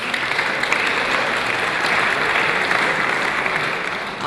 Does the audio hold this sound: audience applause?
yes